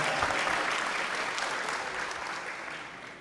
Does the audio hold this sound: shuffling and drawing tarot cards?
no